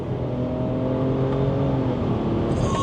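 A BMW 340 xDrive tuned to 600 wheel horsepower accelerates hard through third and fourth gear, its engine note climbing steadily and loud from inside the car.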